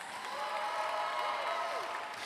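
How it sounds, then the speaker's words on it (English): Audience applause for storytellers at a university event, a steady broadband wash of clapping sustained evenly throughout with some faint cheering mixed in. "Can you give them a big round of applause?"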